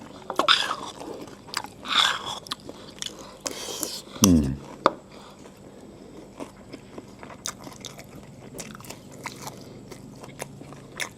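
Someone bites and chews water mimosa vegetable up close, with a few sharp crunchy bites early on, then quieter moist chewing and smacking clicks, with faint speech-like sounds in the background.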